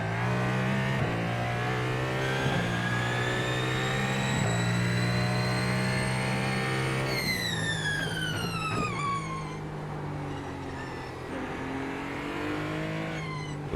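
Hypercar engines in a racing game at the Long Beach street circuit, a loud continuous high-pitched whine rising through the gears with sharp upshifts, then easing off under braking before climbing again.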